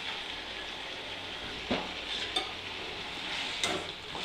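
Tomatoes cook down in a pan for garlic chutney: a soft, even sizzle with a few sharp spoon taps and scrapes against the pan, no voices.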